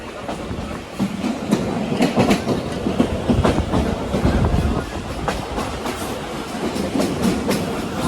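The Tezgam Express rolls along the rails between Okara and Lahore in Pakistan, heard from inside the carriage as a steady loud rumble with a repeating clickety-clack of the wheels running throughout.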